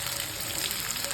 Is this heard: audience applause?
no